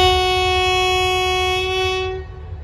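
An express diesel train at Bangkok's Hua Lamphong station sounds a long, loud, steady horn blast over a rumbling engine, the tone holding for about two seconds before cutting off.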